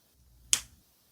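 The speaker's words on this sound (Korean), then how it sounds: "엄지와 중지를 튕기며 딱 소리를 냈다." A single sharp finger snap, crisp and close, standing alone against near silence.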